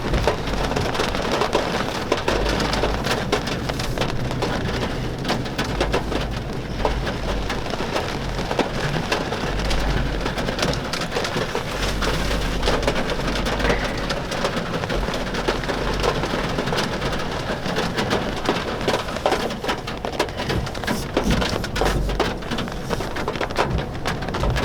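Heavy rain pours steadily on a deep off-road trail during a group run of Toyota Tacomas, a dense continuous hiss and patter close by with no pause throughout.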